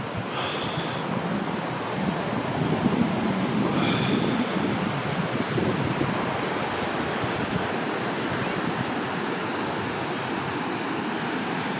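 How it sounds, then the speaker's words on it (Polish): Ocean surf washing onto a beach at low tide in the USA, a steady broadband roar of breaking waves with no talk, constant and fairly loud throughout. "mamy odpływ widzimy jak ocean cofnął się wczoraj wieczorem"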